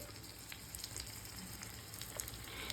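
Adai batter sizzling on a hot pan in coconut oil drizzled around it, a steady soft crackle with scattered small pops and no voices.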